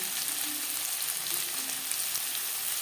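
Chopped onions and slit green chillies fry in oil for a spice-free pabda fish curry with raw tomato, giving a steady, close, even sizzle that holds for the whole stretch with no talking.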